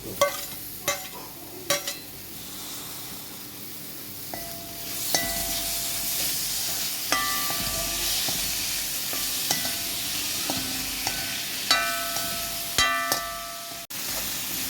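Chopped tomato and onion sizzle in a pan for a Kerala-style okra milk curry, a steady frying hiss broken by repeated scraping and clinking stirs of a spoon.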